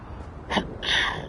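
Two short sneezes, the second longer and fuller, heard close up against quiet room hiss.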